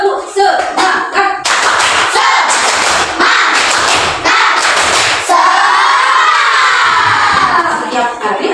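Schoolchildren perform the tepuk semangat spirit clap in a classroom, loud rhythmic bursts of clapping mixed with shouted chanting and cheering voices, ending in a long sustained group shout.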